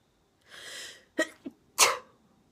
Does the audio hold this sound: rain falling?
no